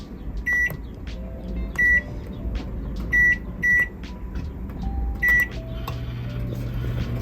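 An RV convection microwave oven combo runs with a steady low hum while it bakes cookies, broken by several short, high electronic beeps and a few soft clicks.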